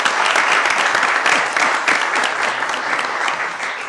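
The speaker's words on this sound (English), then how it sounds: "So to you and your staff, a great round of applause." A round of applause at a city council meeting in Fayetteville, Arkansas: steady, dense clapping from the chamber audience holds an even level through the whole stretch, with no talk over it.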